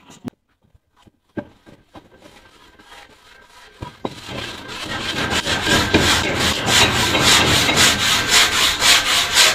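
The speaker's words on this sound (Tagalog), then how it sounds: "Ginamit na lagari." A hand saw cuts through wood, starting with a few scattered taps and strokes, then settling into quick, rhythmic back-and-forth rasping that grows louder.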